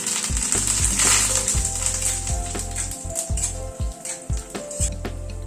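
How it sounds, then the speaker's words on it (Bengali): Curry leaves hit hot oil alongside frying peanuts, producing a close, continuous sizzle broken by sharp crackles and pops that grow more irregular toward the end, with no voices. "কটা কারি পাতা দিয়ে দিলাম।"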